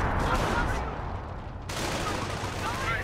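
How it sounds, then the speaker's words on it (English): Explosions and gunfire from Goliath demolition vehicles in a Steel Division-style strategy game, a dense continuous rumble of blasts and firing with a brief dip midway, loud throughout. "Goliaths just make for some really great explosions"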